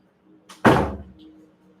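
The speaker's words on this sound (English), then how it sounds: "let me just quickly close this toilet door" A toilet door swung shut indoors with one loud, close thud after a brief soft brush, followed by a fading rattle, with no talking.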